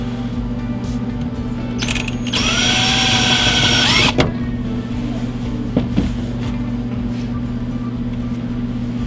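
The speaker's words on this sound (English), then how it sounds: "let me drill this hole just a bit first" A power drill whirs in one brief burst of about two seconds, drilling a hole in a car body panel, over a constant low engine-like hum, followed by a couple of faint knocks.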